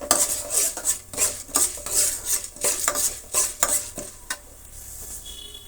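Lentils with asafoetida fry in a pan for coconut rice while a metal spoon scrapes and clinks against it in quick, irregular strokes over a soft sizzle, the stirring easing off near the end.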